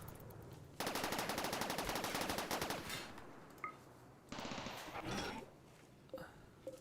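Rapid automatic turret gunfire in the Rimworld video game, a fast continuous burst of shots lasting about two seconds, followed by scattered single heavy rifle shots and impacts, moderately quiet.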